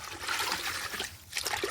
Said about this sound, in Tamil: தண்ணிக்குள்ளே போட்டு தான் பிடியாக தான் கழுவ போகிறோம்.